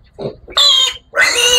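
Young piglets on a farm squealing in two loud, shrill bursts, close by, after a short grunt, during handling and weighing before deworming.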